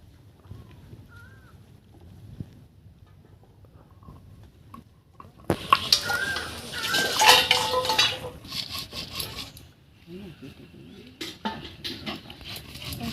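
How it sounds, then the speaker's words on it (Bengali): Cumin and chilli being ground into a paste for a lote fish curry, a burst of rough scraping and knocking loudest in the middle, then quieter intermittent grinding. "এখন এই জিরে মরিচটা বেটে নিচ্ছি"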